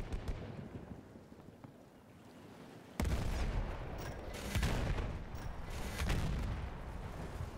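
Gunfire in the video game Battlefield 1: a quiet stretch with a few faint pops, then from about three seconds a sudden loud burst of dense, broadband shooting and explosive cracks that stays heavy and rumbling to the end.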